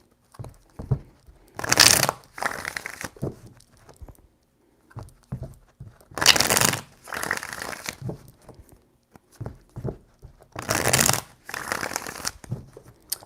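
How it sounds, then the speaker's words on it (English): Tarot cards are shuffled three times in three loud, crisp riffling bursts, each followed by softer taps and rustles as the deck is squared, with quiet pauses between. "3 shuffles."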